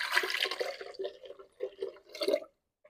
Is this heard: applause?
no